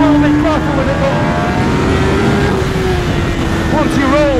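A 2021 Kawasaki ZX-10R sport motorcycle engine revs loudly and close, its pitch climbing in smooth sweeps under a continuous roar.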